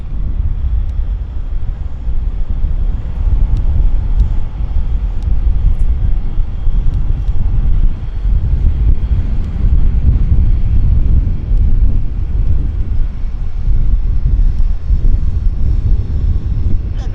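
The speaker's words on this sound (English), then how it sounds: "Yeah, it's a CRJ." A CRJ regional jet coming in at Vancouver airport, a loud sustained low engine roar with buffeting wind noise on the microphone throughout.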